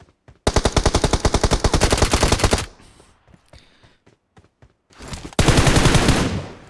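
Full-auto M4 rifle fire in PUBG: a long rapid burst of loud, tightly spaced shots, a pause with faint clicks and movement, then a second sustained burst, close and dominant with no voices.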